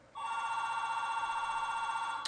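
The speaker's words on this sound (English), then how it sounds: "Sorry for my telephone ringing." A telephone rings indoors in a steady, continuous electronic bell tone that starts abruptly and holds loud and sustained throughout, with no speech over it.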